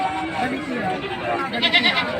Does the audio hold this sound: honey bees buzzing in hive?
no